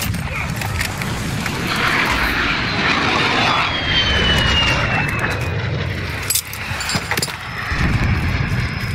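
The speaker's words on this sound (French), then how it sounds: "Frappe à dispersion allié en approche." Cluster strike jet aircraft in Call of Duty Modern Warfare, a loud sustained engine roar sweeping overhead for several seconds with a brief dip near the end, no talking.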